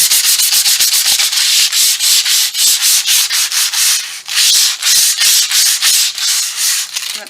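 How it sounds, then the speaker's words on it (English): Loud, continuous rhythmic sanding, a harsh scratchy rasp repeating in quick strokes, close up and with no voices. "I know that sound of sanding"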